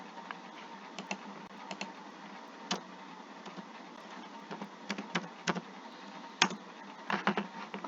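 Code typed on a computer keyboard in irregular bursts of close, crisp key clicks over a faint steady hum, with pauses between runs and no speech.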